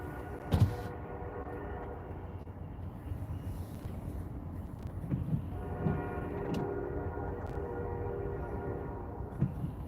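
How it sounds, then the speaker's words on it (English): A Norfolk Southern freight train with three locomotives rumbles past a crossing steadily with low mechanical drone and clanking, brief louder knocks scattered throughout, fairly close and continuous for the whole stretch. "Waiting at the CSX tracks and we get an NS train. Here it comes."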